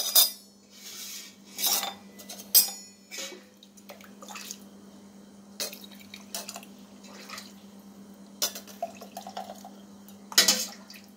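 Ginger and coriander coffee strained in a kitchen, with soft liquid drips and light clinks of a metal strainer or utensils against a vessel, faint and intermittent over a steady low hum.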